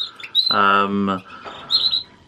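A male Parva canary's bright chirps and a short warbling trill, close and fairly loud, with brief high calls before and after.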